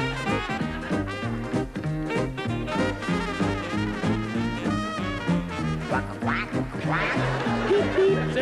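A singing voice imitates a duck's quack over a bouncy, continuous musical backing in a Muppets barnyard song, with no real duck present.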